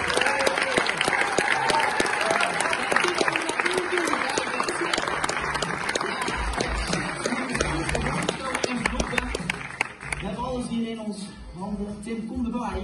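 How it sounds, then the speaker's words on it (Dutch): Sustained loud applause from an awards-ceremony crowd greeting the winner of a sports stimulation award in Oss, dense clapping filling the full duration and thinning slightly near the end, with cheers and voices mixed in. "Applaus!"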